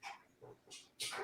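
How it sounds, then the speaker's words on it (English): Dogs bark outdoors in the background, a few faint, scattered yips and barks at a distance with quiet pauses between them. "Sorry about the dogs barking in the background."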